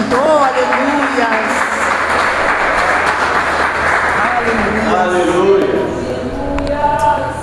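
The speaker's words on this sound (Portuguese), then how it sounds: "salva de palmas bem forte para Deus nesse momento" A church congregation bursts into loud, sustained applause at an evening worship service, dense clapping filling the room throughout, with voices calling out over it toward the end.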